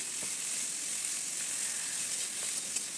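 Sliced bitter gourd fries in a little oil with turmeric and salt, giving a soft, even, continuous sizzle that stays fairly faint and unbroken.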